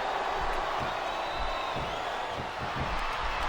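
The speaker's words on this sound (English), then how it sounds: "I love hearing the crowd come alive" Crowd noise from a SmackDown vs Raw 2007 wrestling video game match, a steady loud roar of cheering with faint thuds underneath, continuous throughout.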